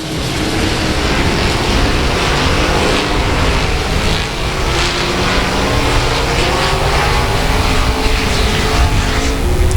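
Race cars roar around a speedway track at South Texas Speedway, a loud, continuous engine drone with layered overlapping cars and no pauses.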